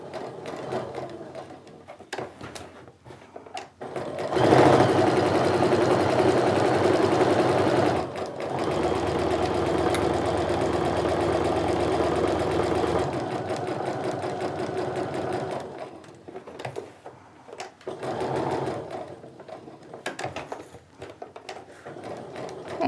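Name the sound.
sewing machine stitching around a zipper on a sling bag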